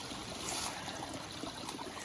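A small creek trickles through a soggy patch of ground on a nature walk, a faint, steady babbling and dribbling of water with no talking.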